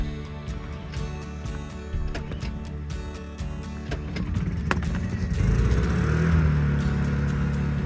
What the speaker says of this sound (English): So I need to test this generator out.